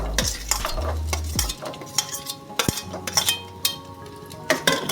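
Garlic added to hot oil with fenugreek, curry leaves, asafoetida and ginger for a raw mango pickle, stirred with a utensil scraping and clinking against the pan under a soft, steady sizzle.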